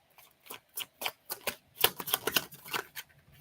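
Tarot cards are shuffled by hand in a quick series of crisp riffling bursts, about a dozen close, distinct flutters with short gaps between them and no talk.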